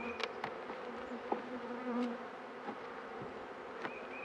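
Honey bees buzzing around an open hive during an inspection, a steady close hum with individual bees zipping loudly past now and then; no talking.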